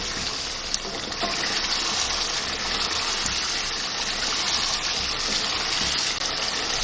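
Water pours steadily into a pot of mutton and potato curry, a continuous rushing splash that fills the whole stretch with no talking.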